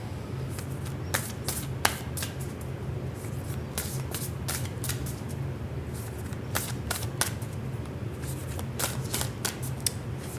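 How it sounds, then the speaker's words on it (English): A Black Moon Astrology card deck is shuffled by hand, giving a quick string of crisp riffling snaps and soft slides that repeat steadily over a low background hum, close and clear. "let's get a card from the Black Moon Astrology deck for you"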